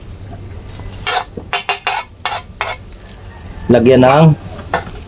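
Kinilaw of fish with chili being stirred in a bowl, several short scraping clicks of a utensil, with a voice speaking briefly near the end.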